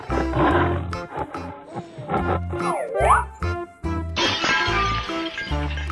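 A tiger in an animal video game gives a loud, gritty roar, set among bright game music and sound effects.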